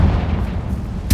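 Confringo fire spell blast in Hogwarts Legacy, a short deep booming burst followed by a sharp crack at the end, with no talk.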